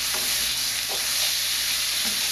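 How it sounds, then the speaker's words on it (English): Pork and kimchi frying in a pan while being stirred, a continuous close sizzle with a few brief scraping stirs. "Stirring this around, getting the pork fat into the kimchi."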